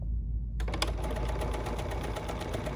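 A BERNINA sewing machine stitches fabric: after a brief quiet start it runs at a fast steady rhythmic whir, loud and close, with no talking.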